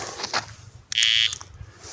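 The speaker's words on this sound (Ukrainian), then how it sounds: "Перевіряємо сигналізатори, пікають." Carp fishing bite alarms beeping during a check at a dam-side swim in autumn: a short, loud, steady electronic tone in the middle, with a few fainter chirps around it over quiet outdoor background.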